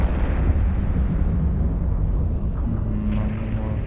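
Continuous heavy explosions in Eve Online, a dense low roaring rumble that stays loud and steady throughout, with a faint tonal hum emerging toward the end and no talk.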